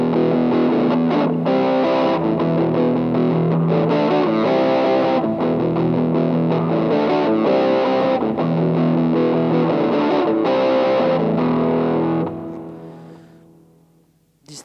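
Electric guitar through a Boss DS-2 Turbo Distortion pedal with distortion set to about 25%, chords strummed loud and steady, then ringing out and fading at the end.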